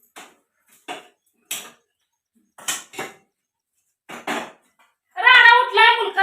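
Steel plates and dishes are picked up one after another, giving sparse, bright metallic clinks and clatters with short silences between them, followed by a voice speaking near the end.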